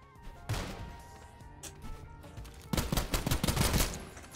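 Gunfire in the shooter SULFUR as an enemy with a sniper rifle opens up: one sharp crack, then several fainter hits, then a loud rapid cluster of shots near the end.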